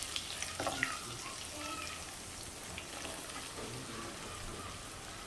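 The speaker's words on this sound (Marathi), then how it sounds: "आता हाय फ्लेमवर म्हणजे मीडियम टू हाय फ्लेमवर आपल्याला ही भेंडी चांगली परतून घ्यायची तेलामध्ये" Okra frying in oil in a pan over medium-high heat gives a steady, soft sizzle with light crackles and a few louder pops near the start, with no one talking.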